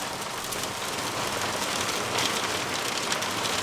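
Hail falling on a boat at launch, a dense, steady hiss of countless small impacts without pause, fairly loud and close, with no voices.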